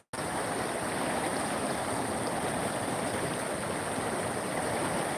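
A loud, steady roar of rushing rainwater streaming through farmland, continuous and close, with no pauses.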